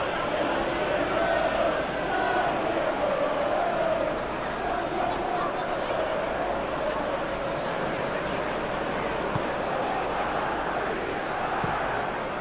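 Stadium crowd noise from the PES 21 football video game during a Manchester United vs Tottenham Hotspur match, a steady dense roar that stays constant throughout, with no voices standing out.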